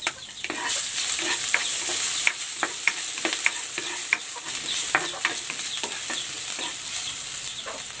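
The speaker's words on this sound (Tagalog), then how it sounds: "Igigisa ko na tong bawang" Garlic and ginger sautéing in a pan, a continuous close sizzle of frying with frequent clinks and scrapes of a utensil stirring, and a faint rooster-like cluck in the background.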